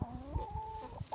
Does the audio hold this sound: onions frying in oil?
no